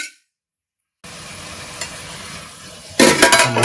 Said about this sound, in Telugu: దీన్ని చక్కగా ఈ మసాలాలో 5 నిమిషాలు చక్కగా మగ్గనివ్వండి